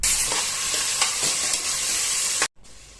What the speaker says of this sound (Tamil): ஒரு கைப்பிடி நிறையா சின்ன வெங்காயம் சேர்த்து சும்மா ஒரு நிமிஷத்துக்கு வதக்குனா போதும்